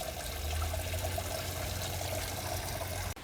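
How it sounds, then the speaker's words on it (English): A small waterfall trickles and splashes steadily in a soft, continuous stream, heard close and fairly quiet, ending with a brief abrupt cut. "Look at that little waterfall."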